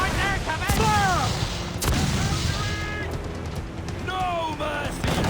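Ship cannons fire in Assassin's Creed Black Flag during a naval battle, their heavy booms landing a few at a time amid crashing noise, with shouted voices over the top.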